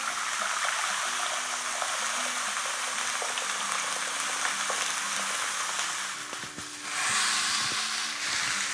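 Hot water boiling in a Delimano saucepan ready for blanching asparagus, a steady close bubbling hiss with small pops and a brief dip and surge near the end, no voices.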